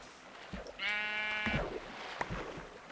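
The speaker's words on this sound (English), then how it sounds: "I see another sheep over here." Minecraft video game sheep giving one clear, wavering bleat near the start, followed by a couple of brief soft game sounds, fairly close and alone without talk.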